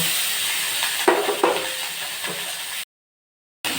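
Pulao ingredients fry with a little turmeric in a pan while neem pulao is being made, a continuous hissing sizzle with a few spatula strokes, close by, cutting to silence briefly before resuming.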